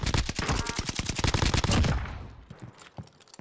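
A Bren machine gun in Warzone Pacific fires a rapid, evenly spaced burst of loud, close shots for nearly two seconds, then stops; a few faint distant shots follow.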